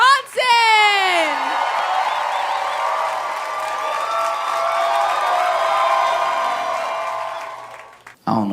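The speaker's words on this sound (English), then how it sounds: "Y'all start clapping right now." A stand-up comedy crowd claps, whoops and cheers as the headliner is welcomed to the stage, a loud, sustained roar of applause with shouts rising over it that fades briefly near the end.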